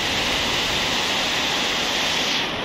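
Heavy rain pours down steadily outdoors beside a flooded street near the Arjosari flyover in Malang, a dense, loud, unbroken wash of noise that holds constant throughout.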